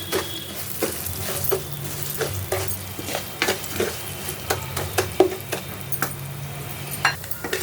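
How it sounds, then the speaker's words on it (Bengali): Half a cup of Gobindobhog rice fries in a pan under a low sizzle, with repeated quick scraping strokes of a spatula stirring the grains in an irregular rhythm. "এখন আমি গোবিন্দভোগ চালটা একটু ভেজে নেব"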